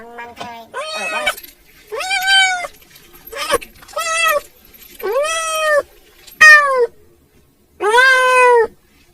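Kittens meow repeatedly in loud, close, drawn-out cries, about seven calls spaced by short pauses, some rising and stretched.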